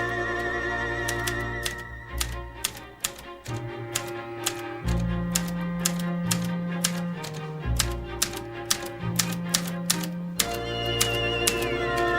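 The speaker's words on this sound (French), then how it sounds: "la vieille machine à écrire dans le bureau" Old office typewriter clacking in a quick irregular series of sharp key strikes over sustained background music, with no talk.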